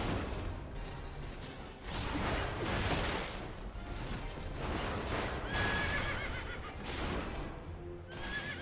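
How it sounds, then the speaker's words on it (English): A horse in Final Fantasy XIV whinnies in a game scene, with repeated neighs over clip-clopping hooves and swishing effects, fairly loud and with no voice over it. "Horse, indeed."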